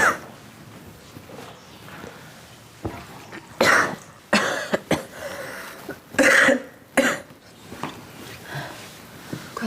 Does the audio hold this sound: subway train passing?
no